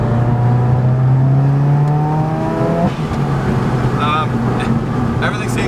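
A car is driven out on a test run after an oil change, its engine note rising steadily with loud, continuous road and engine noise, then settling into a steady cruise with a faint chiming tone near the end.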